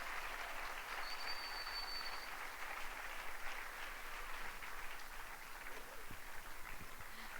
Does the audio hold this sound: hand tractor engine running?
no